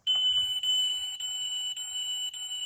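A Jinglifang Lexus ES300 scale model car gives off shrill electronic beeping in close, rapid repeated pulses, loud and alone.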